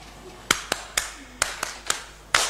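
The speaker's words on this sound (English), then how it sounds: "in my culture, we clap in an organized way" A few people clap in an organized, spaced pattern at an official results-release event, about eight sharp separate claps spread unevenly over a couple of seconds.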